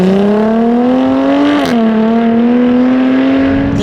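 A Jaguar F-Type engine held in second gear gives a loud, close, smooth tonal drone with a brief rev dip and recovery midway, no talking over it.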